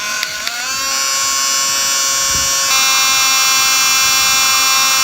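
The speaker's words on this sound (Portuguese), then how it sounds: "a gente vem novamente com o ventiladorzinho" A small handheld fan spins up after a brief start and holds a steady high, whining buzz while drying eyelash extensions, with no voices over it.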